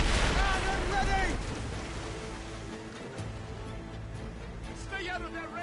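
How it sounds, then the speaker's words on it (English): Ship cannon fire in the naval combat of Assassin's Creed Rogue: a loud, booming burst at the start that fades into a rumbling, sea-like wash, with voices over it. "Cannon ready!"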